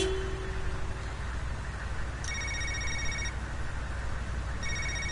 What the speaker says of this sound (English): Somebody named Lenny Spruce is calling us